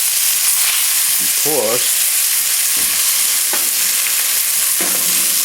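Vegetables fry loudly over a high flame alongside garlic chicken, a dense, constant sizzle near the mic with occasional stirring scrapes and a brief word spoken over it.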